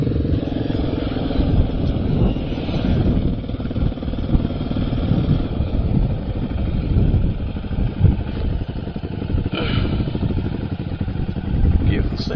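A quad bike engine runs steadily at close range while the rider turns round on a hilly road near Wrynose Pass, a constant rough rumble with small clattering bursts and no break.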